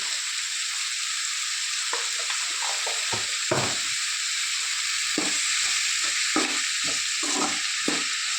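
Sirraku greens with turmeric frying in a pan, a constant bright sizzle under repeated scraping strokes of a spoon stirring in a loose rhythm.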